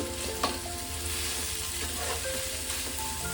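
Mashed boiled potato with garam masala sizzles and fries steadily in a pan, a continuous crackling hiss broken by a few soft stirring scrapes, with no one talking.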